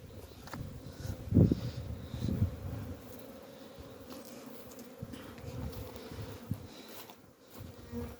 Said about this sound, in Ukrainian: От бджола бере воду.